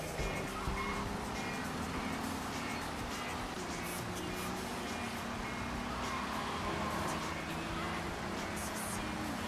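Fast car engine driving in the video game GTA 3, a steady loud droning roar with shifting engine tones throughout, no pauses.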